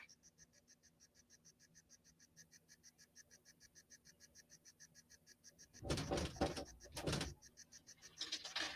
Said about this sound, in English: Don't be alarmed by that knocking noise. It's not a ghost, it's just my kitty cat.